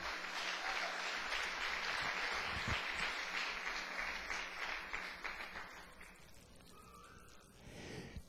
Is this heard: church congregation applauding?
yes